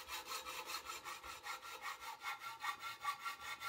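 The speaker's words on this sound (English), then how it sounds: "When sawing the aluminum profile, the angle also helps to make the cut straight and at right angles." A hand saw cuts an aluminum profile, rasping back and forth in a quick, even rhythm, about five strokes per second, close and steady with no talking.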